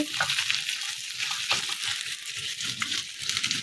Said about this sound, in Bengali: এখানে হচ্ছে ঢেঁড়স ভাজি